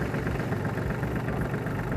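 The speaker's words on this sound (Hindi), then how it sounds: "जैसे ही मैं क्लच दबा के इसको स्टार्ट करूँगा तो एकदम से" A Farmtrac Atom tractor engine idles nearby with a steady, rumbling diesel chug that holds an even rhythm throughout.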